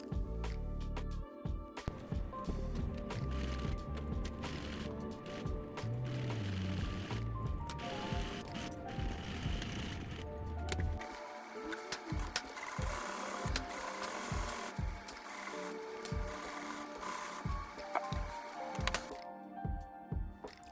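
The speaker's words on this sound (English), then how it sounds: "I'm going to sew down the left and right side using about 3/8 of an inch seam allowance" A sewing machine stitches the side seams of a tote bag made from old jeans, whirring in quick bursts and steady runs with brief pauses between passes.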